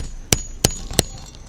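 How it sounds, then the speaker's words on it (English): Three quick, light metallic taps of a claw hammer against a claw set under a deeply driven nail, bright and close over faint background noise. "I'm gonna have to use my hammer, unfortunately, to unstick this or undo this first nail"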